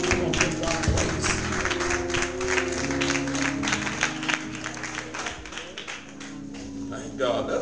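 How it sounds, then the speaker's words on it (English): A church congregation claps hands during a service, a dense run of sharp claps at close range with voices and music mixed in underneath. "Let's give our pastor hand clap such a good job today."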